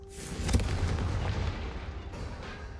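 A Confringo fire spell explodes in Hogwarts Legacy, a heavy booming blast followed by a sustained rumbling roar of fire and debris that carries for several seconds, loud and close, with no talking.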